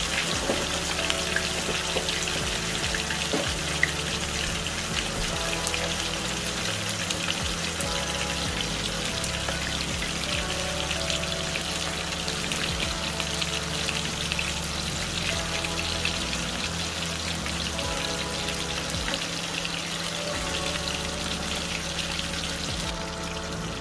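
Fish frying in hot oil alongside onion, with a steady, continuous sizzle and crackle throughout, moderately close and with no voices over it.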